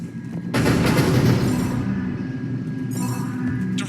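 Ship weapons firing in Mass Effect 3, a sudden powerful blast that swells into a sustained roaring rumble, followed by a second burst, loud and dense with no voices.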